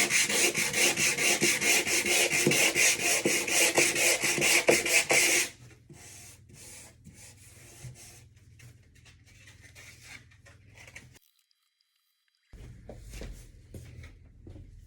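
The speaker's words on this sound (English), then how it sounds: "This time I got a piece of wood used as a sanding block," Wood sanded by hand with a wooden sanding block, loud rhythmic rasping strokes for about five seconds, then fainter scattered rubbing strokes with a short silent gap.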